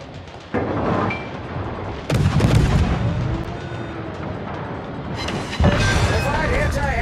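Cruiser Chikuma's guns fire in World of Warships, heavy booming salvos arriving in a few loud bursts over rumbling battle noise, with a voice speaking in between.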